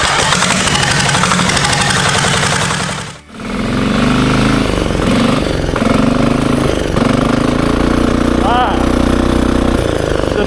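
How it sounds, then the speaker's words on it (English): Turbo diesel racing go-kart engine starting up loud and close, a steady rough diesel clatter with a turbo whine rising briefly near the end, running continuously after a short pause. "The turbo sounds good."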